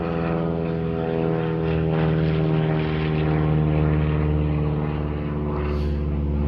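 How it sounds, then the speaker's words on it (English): A flying-school propeller airplane drones steadily overhead, a loud, continuous engine hum with a throbbing low tone that holds at near-constant level throughout. "There's an airplane flying overhead, part of a flying school."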